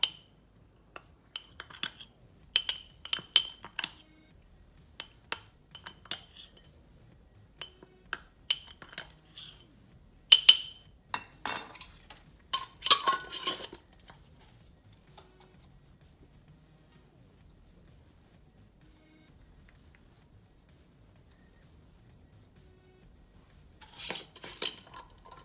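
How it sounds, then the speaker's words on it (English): A utensil mixes food in a dish with scattered bursts of metallic clinks and scrapes, close and crisp, separated by quiet pauses and a final flurry of clatter at the end. "Now I'm just going to mix this up."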